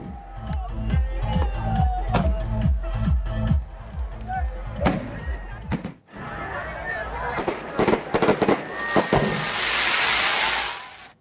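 New Year fireworks burst over Murud beach in Raigad, India, in quick, booming bangs and crackles, some loud and near, with a crowd cheering and voices talking between the blasts.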